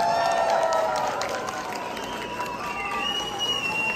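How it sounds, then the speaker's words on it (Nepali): An audience at a live Nepali show applauds and cheers. The broad, steady clapping stays fairly loud and even for the full few seconds, with faint voices mixed into the crowd noise. "जोरदार ताली एकपटक तपाईँ बुढाको लागि।"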